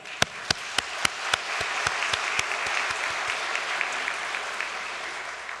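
Church congregation applause, a broad steady wash of many hands with one nearby clapper standing out in sharp, evenly spaced claps that slowly fade.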